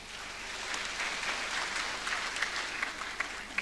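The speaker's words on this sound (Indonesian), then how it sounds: "Tepuk tangan, Min." Applause at a university graduation ceremony, a soft, distant wash of clapping from a crowd with a few sharper individual claps near the end over a low steady hum.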